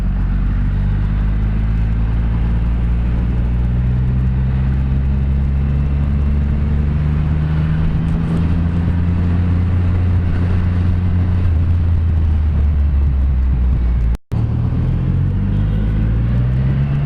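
A Triumph Rocket 3 GT motorcycle rides at speed in third gear near 130 km/h on an Indonesian road, its engine a loud, steady, deep rumbling drone with shifting tones and wind roar, briefly cut once near the end.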